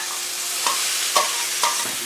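Chayote squash sautéing in a pan, a steady close sizzle with three soft stir-and-scrape bursts spaced about half a second apart, no voices.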